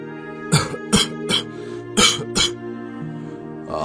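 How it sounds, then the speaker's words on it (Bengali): An elderly man coughs in a cartoon scene: five sharp, close coughs and throat-clearing bursts in a rough, uneven rhythm over a steady musical background drone. "কাশির সাথে রক্ত পড়ছে"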